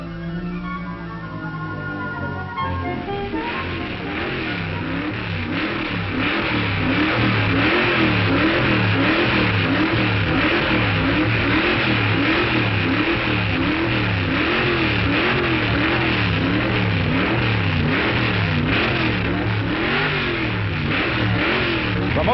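Sidewinder crew race car from Long Beach, California, idling and then accelerating hard down the line, a loud engine roar that rises and pulses in repeated revving waves for about twenty seconds.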